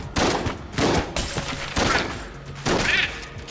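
Shots from a weak gun in the video game Enter the Gungeon, fired as four evenly spaced, punchy blasts about a second apart, loud and without talk.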